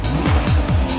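Porsche 911 Carrera 4S engine, loud and close, revving in quick repeated surges that rise and fall several times within a second, with no voices.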